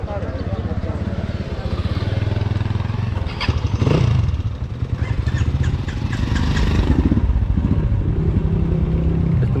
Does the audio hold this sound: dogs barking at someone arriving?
no